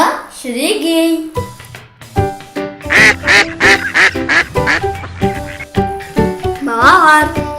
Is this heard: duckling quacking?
yes